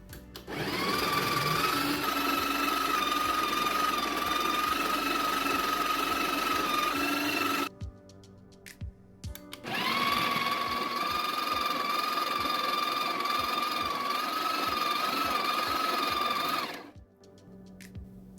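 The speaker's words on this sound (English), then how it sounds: "press it into the grinding cradle for the ground beans from the burr. Here's how it sounds." Breville Barista Express burr grinder grinding espresso beans into a filter basket: a loud, steady high-pitched whirring drone in two long runs of about seven seconds each, separated by a short pause, with no talking.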